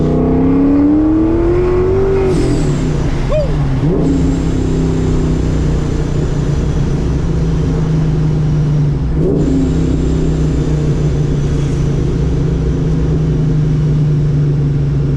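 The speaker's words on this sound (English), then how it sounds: "Them downshifts I love, man. Nothing like it. And the sound of the blower, the blow-off valve" Supercharged 1998 SN95 Mustang Cobra engine heard from a ride along, running loud and steady with throttle surges, rev shifts around downshifts and a brief whoosh from the blower's blow-off valve.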